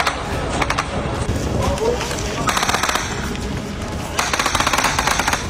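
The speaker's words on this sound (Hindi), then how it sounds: "इन लोगों पर गोलियां बरसाई जा रही हैं और गोलियों की आवाज साफ सुनाई दे" Gunfire in a conflict zone in Gaza as people flee toward their homes, bursts of rapid shots rattling in clusters under a noisy, crowded background with voices.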